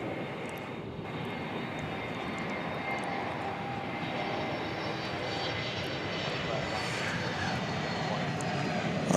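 A jet airliner takes off at DFW Airport in America, a steady, loud broadband engine roar that holds and slowly swells over about nine seconds, with no talk over it.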